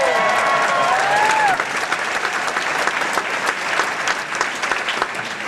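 A political rally crowd claps and cheers loudly for a candidate's pledges, dense sustained applause filling the space, with a brief whistle-like tone early on and the roar easing slightly after the first second and a half.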